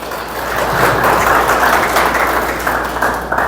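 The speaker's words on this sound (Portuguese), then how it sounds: "Uma salva de palmas para a irmã aí," Congregation in a church applauding a volunteer during a Portuguese-language sermon, a steady broad roar of clapping that swells and holds for several seconds, with a low hum underneath and no talking.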